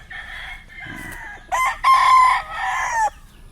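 Newly corded stags, young gamecocks on a farm, crow in a few loud overlapping calls close by, with a short cluck between them.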